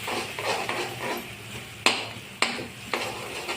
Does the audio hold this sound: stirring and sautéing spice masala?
yes